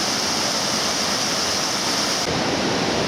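Water rushes through a sluice on the River Mole, a loud, continuous roaring hiss close by with no voices.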